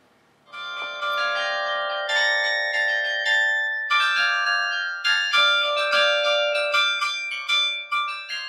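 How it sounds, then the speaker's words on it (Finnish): A carillon of 31 bronze church bells in Tikkurila Church, Finland, rings out a melody of many pitched strikes, ringing tones overlapping and sustaining, growing busier and more rhythmic as it goes. "se on monesta pronssisesta kellosta koostuva iso kromaattinen soitin"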